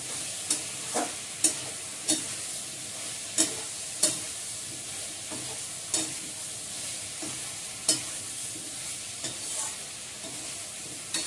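A spiced mixture with green chillies, fried spices and ground black pepper sizzles in a pan while being stirred, with regular spatula scrapes and taps at roughly one-second intervals over a steady frying hiss.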